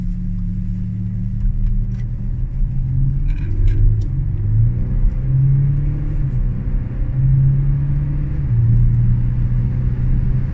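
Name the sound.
Audi SQ7 V6 TDI quattro accelerating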